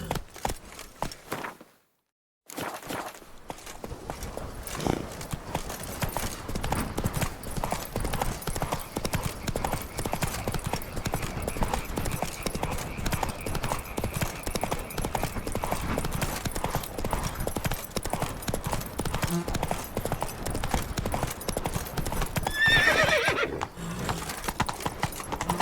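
Horse hooves clip-clop steadily throughout in The Witcher 3: Blood and Wine, with an occasional whinny and a brief silent gap near the start, loud and close with game ambience underneath.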